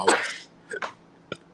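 A single sharp sneeze up close, followed by a couple of short breathy sounds and a small click.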